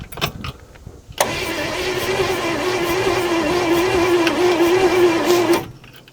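A vintage car engine cranks over on its starter, a steady whirring grind of about four and a half seconds between quieter moments, with no voices.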